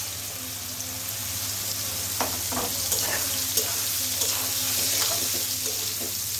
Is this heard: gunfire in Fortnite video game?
no